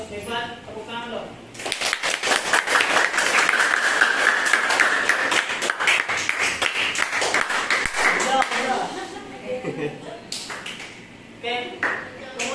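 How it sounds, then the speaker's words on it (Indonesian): Classroom students burst into lively applause, a dense run of claps swelling after a short pause and holding for several seconds before tapering into a few scattered claps, with voices talking around it. "tepuk tangan dong"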